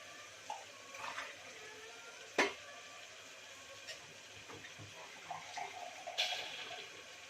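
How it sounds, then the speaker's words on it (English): Water is poured over soaked rice and moong dal in a pot for khichdi, a steady soft splashing hiss broken by a few sharp clinks and knocks of kitchen utensils. "One glass of rice I taken, so I am adding 2 glasses of water and some salt I need"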